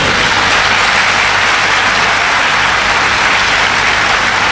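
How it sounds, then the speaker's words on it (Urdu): A large audience at a university lecture hall claps in a loud, dense, unbroken roar that sounds almost like heavy rain, with no voices over it. "تو لوگ تالیاں بجا رہے ہیں"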